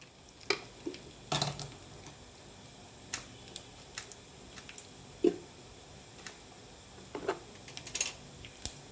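Tempering spices fry in hot oil for a potato chutney, giving quiet, scattered crackles and sharp pops at an irregular pace, with no talking.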